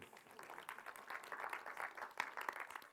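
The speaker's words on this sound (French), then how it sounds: "Vous pouvez l'applaudir si vous voulez" An audience applauds after a short talk on feedback, a steady, faint patter of many hands clapping at a distance.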